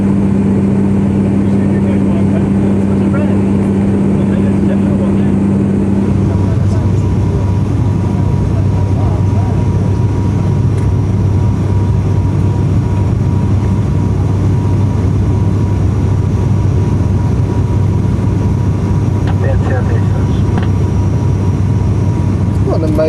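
Steady cabin drone inside an air-conditioned passenger aeroplane in flight to Hao Atoll, French Polynesia, a loud continuous low roar with a brief tonal hum early on that fades, then a uniform rushing engine noise.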